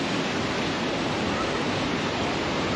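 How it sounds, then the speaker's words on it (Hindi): Floodwater of the Chenab River at Head Marala roars in a dense, steady rush of noise, constant and unbroken from start to finish, heard from a moderate distance. "यकीन करें, ये पानी की आवाज़ सुने आप।"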